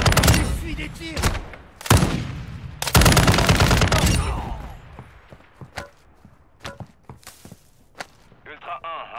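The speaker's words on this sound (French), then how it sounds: "Vous essuyez des tirs." Bursts of automatic gunfire and single shots in Call of Duty: Modern Warfare II, loud and dense at first, then thinning into scattered distant pops and clicks.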